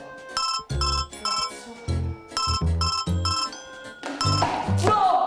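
A telephone rings with a loud, close electronic ringtone in repeated bursts of bright, bell-like tones, while a voice calls out over the last part.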